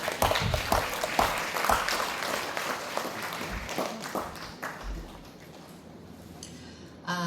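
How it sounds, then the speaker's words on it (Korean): At the Sea Literature Award ceremony in the Korea Sori Arts Center, an audience applauds steadily as a winning poet walks up to the stage. The clapping is full and continuous, easing slightly toward the end before a final swell. "올라오실 때 큰 축하의 박수 부탁드리겠습니다."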